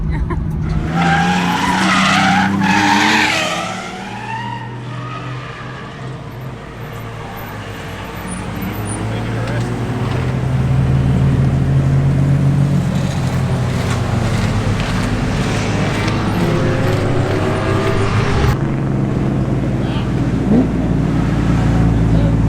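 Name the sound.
1JZ-engined Nissan S15 drifting with tire skids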